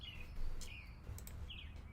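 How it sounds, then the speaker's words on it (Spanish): Recorded birdsong plays indoors through a speaker, with a few short, bright chirps and tweets over a low room hum, faint and alone without speech. "voy a ver cómo se escuchan los pájaros acá"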